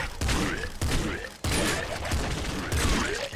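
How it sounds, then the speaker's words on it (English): Shotgun fire in the video game Nuclear Throne: a few loud, booming blasts at irregular intervals, each with a short burst of noisy decay, packed close together. "Big bandit gets wrecked by shotguns."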